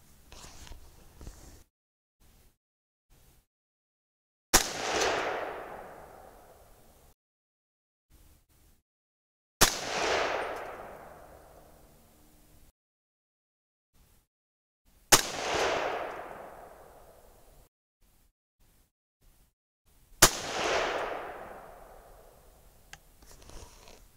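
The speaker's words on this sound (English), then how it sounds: "Well, let's just keep shooting." A rifle chambered in 300 Blackout fires four loud, sharp shots outdoors, each spaced about five seconds apart and followed by a long decaying echo, with quiet pauses between.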